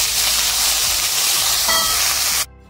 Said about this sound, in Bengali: এবার ঠিক একইভাবেই আমরা কেটে রাখা আলুগুলোকেও আমরা ভেজে নেব।